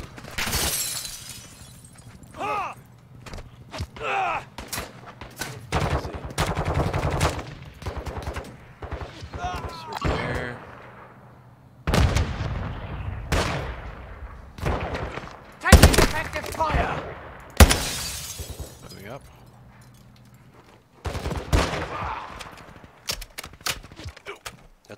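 Gunfire crackles in Call of Duty Warzone 2.0, with dense bursts of automatic shots and sharp impacts coming in clusters, loud and close, mixed with game radio chatter and players talking.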